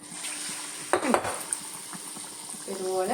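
Batter-dipped ripe plantain fritters dropped into hot oil give a steady sizzling hiss, with a few utensil clinks and a brief spoken word near the middle.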